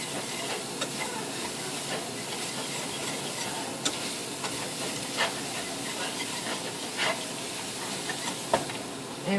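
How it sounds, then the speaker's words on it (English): Celery and onions cooking in a pot for oyster stew, giving a steady soft hiss of steam and gentle bubbling with a few faint clinks, continuous and without talking. "I'm going to add my celery, my onions, and I'm going to get that cooking"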